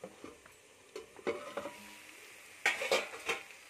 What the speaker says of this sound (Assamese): এই মাংসখিনি এতিয়া আৰু অলপ হিলাই ল'ম।